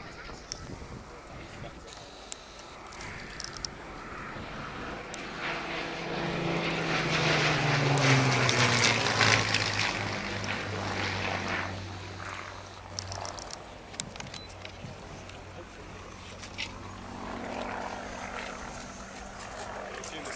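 A Hawker Hurricane fighter of the Battle of Britain Memorial Flight passes overhead, its engine drone swelling to a peak and fading away, with a voice talking over it.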